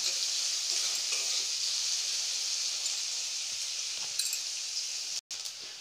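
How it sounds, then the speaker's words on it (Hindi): Onion, garlic, ginger and green chilli sizzle steadily as they are stirred and sautéed in a pan over a medium flame, a continuous close frying hiss with faint utensil clinks and no talking. "इसे भी चारों तरफ से मिलाते हुए मैं 2 मिनट तक मीडियम फ्लेम तक कुक करूंगी।"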